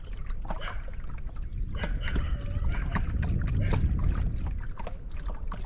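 Boat moving across the water toward a sandbank on the reservoir at Rondia Dam near Panagarh, with soft, continuous lapping and small splashes against the hull at a fairly low level.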